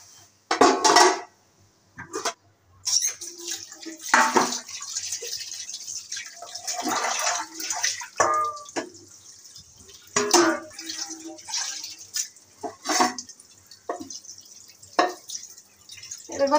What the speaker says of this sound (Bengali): আজকে থালা বাসন ধুচ্ছি